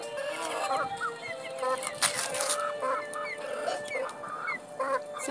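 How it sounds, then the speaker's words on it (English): Chickens in an African village cluck and squawk nearby in a busy, overlapping flock, with sharp calls rising over a steady outdoor background and no clear talk. "So guys, my chicken are here."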